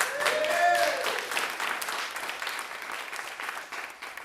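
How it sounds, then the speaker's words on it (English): Applause from a Sunday Assembly congregation in Pittsburgh swells at first and then gradually thins, with a voice briefly heard over the clapping near the start. "So I want you to applaud for that"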